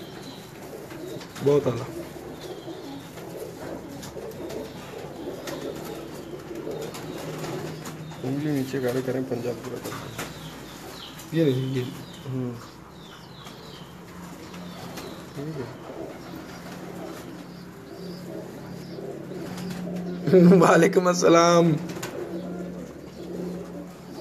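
Pigeons, a cross between a quail-type and a 35-type bird, coo in short bursts with a louder stretch near the end, beneath steady conversation between men in a pigeon loft.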